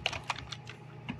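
A few quick keystrokes tapped on a computer keyboard while entering a template directory path for a Django project, close and crisp, with irregular clicks and short gaps between them.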